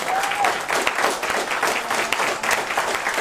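Audience applause at a Washington DC mayoral candidate forum, a sustained, dense patter of many hands clapping at moderate volume, steady from start to finish with no speech over it.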